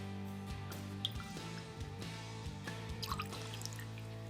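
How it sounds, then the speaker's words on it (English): Traveler's Blended Whiskey is poured into a glass for an Old Fashioned, making a soft, close trickle with a few drips and splashes over quiet background music. "Now we're gonna pour in the 1 ounce of Traveler's Blended Whiskey."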